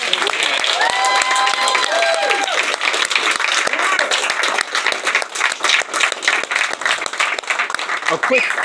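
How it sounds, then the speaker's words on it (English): A crowd at a guitar clinic inside a music store in Rockaway, New Jersey claps steadily throughout, with some cheering and voices mixed in. "Round of applause for George."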